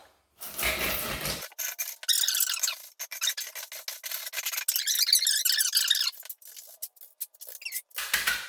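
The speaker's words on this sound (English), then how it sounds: "So right now I'm just using the finishing trowel. It's just a smooth trowel." A smooth steel finishing trowel is worked across a freshly poured wet concrete slab patch over a repaired under-slab plumbing leak, giving steady close scraping and rubbing strokes in long continuous passes with brief pauses between them.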